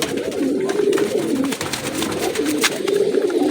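A matched male and female pair of Rampuri pigeons coo close by in soft, repeated rolling calls that overlap almost continuously, with light rustling underneath.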